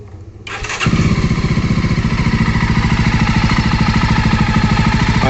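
A Jawa motorcycle engine starting and then idling steadily, a loud close rapid even firing pulse after a brief cranking, with no talk.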